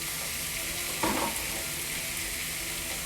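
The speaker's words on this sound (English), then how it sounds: "here we are sauteing, so we want to have medium-high heat" Red bell pepper sizzles in a pan over medium-high heat, a steady close crackle, with a brief louder burst of stirring about a second in.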